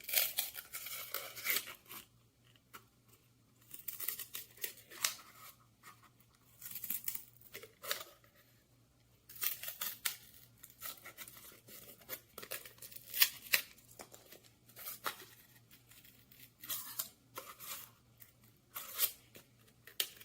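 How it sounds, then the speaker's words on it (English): Paper being snipped and cut with scissors around a printed design in irregular bursts, crisp crinkling and tearing-like rustles with pauses between cuts, close by. "I'll take my pair of scissors and very carefully cut out my T."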